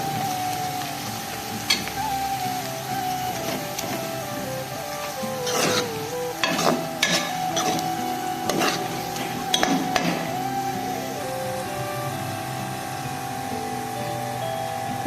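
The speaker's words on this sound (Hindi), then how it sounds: "तो ये प्याज गोल्डन ब्राउन हो चुके थे, तो अभी मैंने इसमें लहसुन भी ऐड कर दिया है।" Onions and garlic frying in a home kitchen pan give a steady sizzle, with scattered clinks and scrapes of a utensil stirring the pan throughout.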